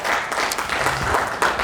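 A church congregation claps together to praise God during a Sunday service, a short burst of dense, steady applause in a reverberant room.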